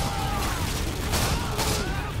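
Gunfire in the Modern Warfare 2 shooter game: a loud, rolling wash of shots from several directions, with a couple of sharper bursts standing out near the middle.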